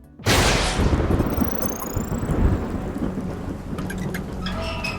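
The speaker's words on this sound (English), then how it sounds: "Oh, and there was a storm." A thunderstorm at sea in the video game Subnautica: a sharp thunderclap cracks in loudly, then rumbles and rolls away over steady heavy rain, with faint electronic whistles and blips near the end.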